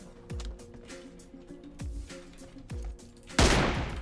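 Bolt-action M24 rifle fire in the mobile game PUBG Mobile, a few separate booming shots spaced roughly a second apart with mechanical clatter between, ending in a louder burst of noise.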